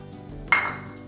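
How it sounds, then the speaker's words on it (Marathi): Coarse cracked wheat tipped into hot ghee in a pressure cooker, a single sharp metallic clink and rattle against the pot that quickly fades. "त्यामध्ये लगेचच आपण भरडा घालून घेणार आहोत"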